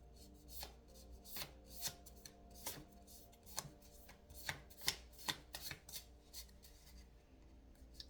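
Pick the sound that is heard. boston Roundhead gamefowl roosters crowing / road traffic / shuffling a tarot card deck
shuffling a tarot card deck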